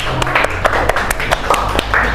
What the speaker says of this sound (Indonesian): Ayo tepuk tangan untuk teman kita.